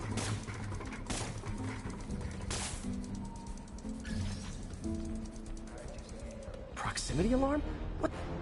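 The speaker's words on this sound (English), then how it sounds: "This pigeon's strong." A pigeon in the Spider-Man game coos softly amid a city street bed of traffic and clatter, with a sharper bird call near the end; a voice speaks over the scene.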